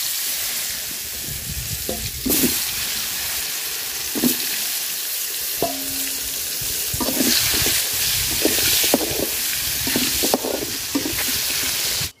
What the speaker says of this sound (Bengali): তো মাছ ভাজার তেলে আমি আলুটি ভাজা নিব,